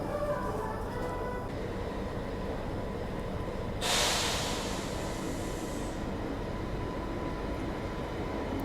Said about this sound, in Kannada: ಯಾವುದೋ ಟ್ರೈನ್ ಎಂಟ್ರ್ ಆಯ್ತು ನೋಡ್ರಿ